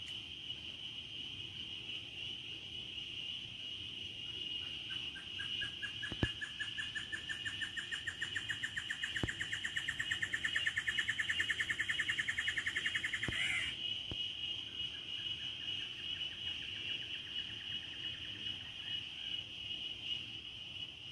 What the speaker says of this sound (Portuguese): As cigarras e as passarinhos cantando.